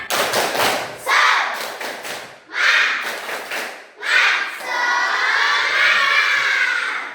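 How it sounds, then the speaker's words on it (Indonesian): Schoolchildren in a religion class doing the tepuk semangat clapping chant: rhythmic bursts of group claps and shouted chanting in several loud phrases, ending in a sustained group shout. "Ya, tepuk semangat."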